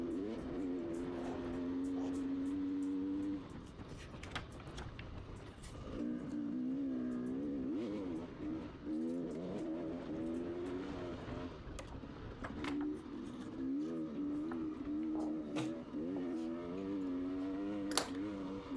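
A motorcycle engine holds near full throttle through a TT lap at Wolwekloof, a steady loud drone that rises and falls in pitch through gear changes and corners, with wind noise over it.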